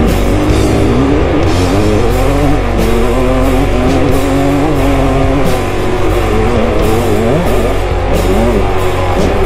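A KTM 200 XC two-stroke dirt bike engine revs hard while riding on a track, loud and close throughout with constant rising and falling throttle and no talking.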